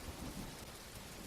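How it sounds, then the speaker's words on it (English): A faint, low rumble of thunder sits under a steady hiss of rain falling on the surfaces of a forest, a soft, continuous wash with no talking. "the constant rain and thunder and drizzle and drip of the woods"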